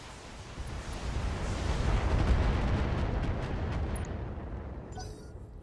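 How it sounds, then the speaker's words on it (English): A video-game mech fires a volley of 40 missiles, and a dense rolling barrage of explosions swells, peaks mid-clip and slowly fades, loud and continuous with no talk. "Turn the lasers off and just fire the 40 missiles at him"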